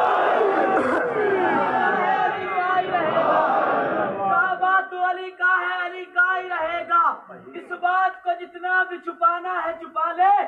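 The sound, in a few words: crowd chanting a religious slogan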